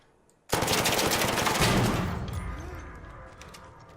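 A turret in ARC Raiders opens fire with a sudden loud rapid burst of automatic shots lasting about two seconds, then the echo trails off.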